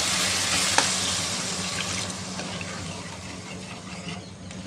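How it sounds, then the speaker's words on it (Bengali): Water is poured into a pan of masala frying in oil for a mustard-poppy parshe fish curry, a rushing splash over steady sizzling that gradually softens. "আমি এবার এতে দিয়ে দেবো পরিমাণ মতো জল"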